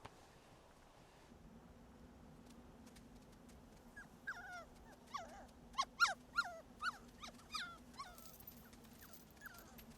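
A hunting dog in the taiga gives a run of sharp yips and whimpering barks, about half a dozen close together mid-clip, over a steady low hum and faint forest ambience, with no one speaking.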